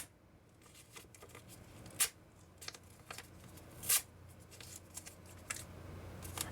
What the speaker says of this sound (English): I'm just ripping paper.